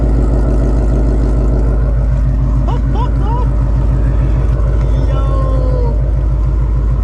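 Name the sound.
2018 Mustang GT engine idling after first startup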